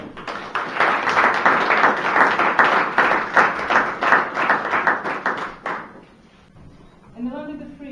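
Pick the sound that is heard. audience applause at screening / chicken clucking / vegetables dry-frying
audience applause at screening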